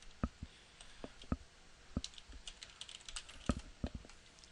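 Typing on a computer keyboard at a desk: scattered soft key clicks and taps in uneven bursts, close and fairly quiet, with no talking.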